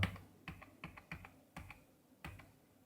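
Enter and other keys pressed on a computer keyboard while working in Tally Prime, a handful of separate close clicks spaced by short pauses.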